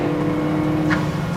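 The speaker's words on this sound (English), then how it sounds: "The almost turbocharged sound you get to the V8," A McLaren P1 road car's turbocharged V8 holds a steady loud drone, heard from inside the cabin, with a brief breathy whoosh near the end as the throttle lifts off.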